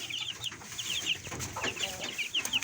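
Several chickens, including roosters and large white Leghorns, cluck and chatter nearby in a busy, irregular flock chorus with no voices.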